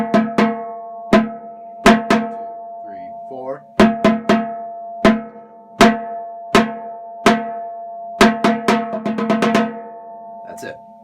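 A high school drumline's tuned marching bass drums play a cadence, with sharp, ringing strikes in a syncopated pattern and quick flurries near the end. A voice counts off briefly at the start.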